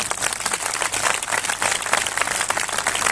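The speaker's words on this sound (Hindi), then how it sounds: "ताली बजा के धन्यवाद दें," A church congregation at a spiritual gathering in Umarpata claps in thanks. The applause is steady, dense and continuous, a full crowd of hands with no voices.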